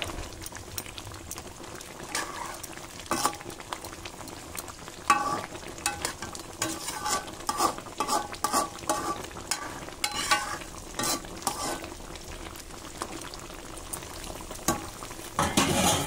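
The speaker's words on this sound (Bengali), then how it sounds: "গরম মশলাটা পুরো ছড়িয়ে দিলাম। একটু মিশিয়ে আমি এবার নামিয়ে দেবো।" Giant freshwater prawn malai curry, seasoned with garam masala, bubbles gently in the pan while a spoon scrapes and stirs it. Soft clinks and faint simmering come through at close range.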